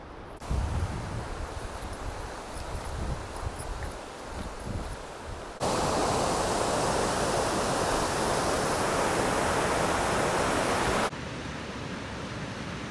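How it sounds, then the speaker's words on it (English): Evolution Creek in Kings Canyon National Park, a stream being crossed on foot on the Pacific Crest Trail, gives a dense rushing wash of water that swells loud and close mid-way, then drops back to a softer steady flow. "Crossing Evolution Creek."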